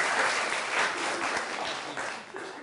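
A studio audience at a comedy show gives full, sustained applause, a thick burst of many hands clapping that gradually eases off toward the end.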